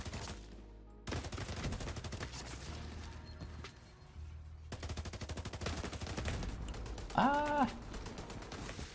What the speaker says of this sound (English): there's an NPC from across the map shooting me